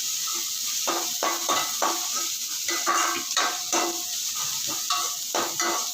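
Vegetables sautéing in a pan while being tempered for paniyaram, with a soft steady sizzle broken by repeated scraping stirs of a spoon against the pan, close and clear with no talk.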